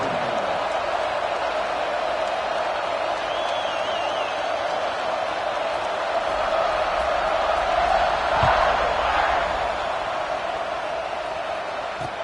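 A big football stadium crowd roars in a steady wash before a kickoff at an Alabama versus Notre Dame game, with occasional whoops rising out of the din.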